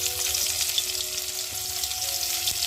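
Onion frying in hot oil in a kadai over a wood fire, a continuous bright sizzle heard close up with faint stirring underneath.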